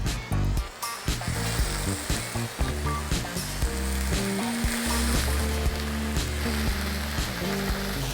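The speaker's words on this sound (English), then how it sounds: "We're gonna throw right into the pan. That's the sizzle we wanna hear." Chicken sizzles and crackles steadily in a hot pan, a constant frying hiss with background music playing throughout.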